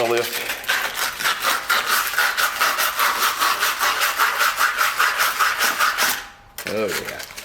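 A SCAG lawn mower blade being sanded, a loud close rhythmic rasping grind with regular pulsing strokes that stops abruptly near the end.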